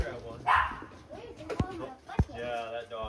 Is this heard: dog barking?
yes